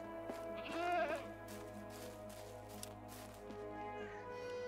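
A single clear bleat from a sheep or goat rises and wavers near the start, then fainter bleats drift under a steady droning background, in the game Medieval Dynasty.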